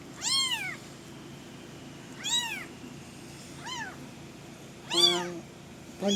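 A newborn kitten, its umbilical cord still attached, gives thin, high-pitched meows, four or five separate cries spaced a second or two apart, close and clear over a quiet background.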